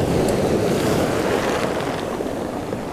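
Winter surf surges and roars continuously onto a shingle beach, a dense, loud wash of breaking water mixed with gusting wind buffeting the microphone.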